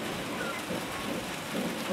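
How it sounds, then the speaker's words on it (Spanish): Steady rain patters and hisses evenly throughout on trees in La Paz, Bolivia, a dense continuous wash of drops with no pauses. "Y ahora mismo está lloviendo."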